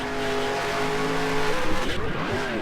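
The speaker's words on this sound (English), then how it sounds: "The hit into the wall was good there." A race car in NASCAR Racing 2003 slams into the wall and spins out, its loud engine droning steadily before the pitch wavers and slides as the car spins.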